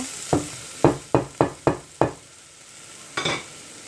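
Onions for spaghetti bolognese cook in a hot pan while a spoon strikes and stirs in a quick run of five or six sharp taps, over a faint background sizzle, then one last scrape.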